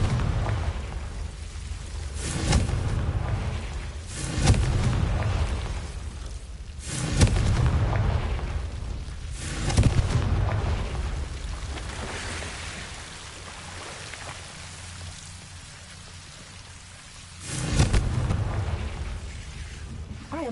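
Confringo fire spell blasts in Hogwarts Legacy, several deep booming explosions spaced a few seconds apart over a low rumbling game ambience.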